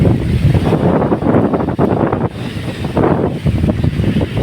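Wind gusts over an open farm field before ploughing on a cloudy day, buffeting the microphone in loud, rumbling surges with no talking.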